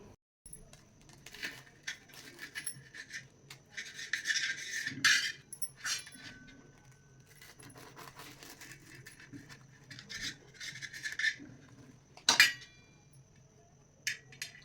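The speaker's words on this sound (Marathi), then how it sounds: "आता मी तुम्हाला हे सँडविच कट करून दाखवते" A knife cuts through a toasted grilled sandwich at home, giving crisp crunching and scraping against a plate in uneven bursts, with a few sharper clinks from the blade.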